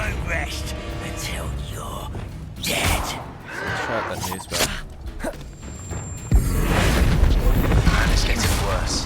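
A Confringo spell explosion in a video game, a few deep booms and blasts among game effects, a sudden loud burst near the end, with a voice speaking over the action.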